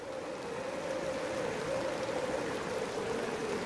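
Continuous sloshing, rushing water as a character wades through floodwaters in the disaster video game Raw Danger, steady and fairly close, with a faint sustained tone running underneath and no talking.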